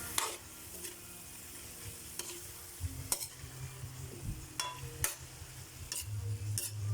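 A spoon stirs ginisang sayote, sautéed chayote seasoned with MSG, in a pan, making quiet scraping and clinking strokes in an uneven rhythm over a faint sizzle, with no talking.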